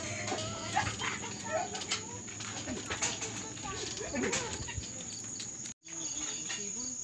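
Several caged birds call and chirp over a steady high insect-like trill, busy and close, with people talking in the background throughout.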